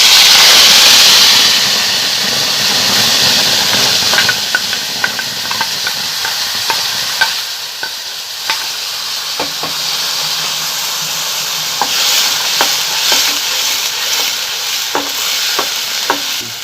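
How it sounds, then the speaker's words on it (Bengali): Ground kharkol leaf paste fries in a pan with nigella seeds, a loud, steady sizzle and steamy hiss running throughout, punctuated by regular scraping and tapping strokes of a stirring utensil. "এটাকে এবার আমি এখানে ভালো করে ভাজবো, কষিয়ে নেব।"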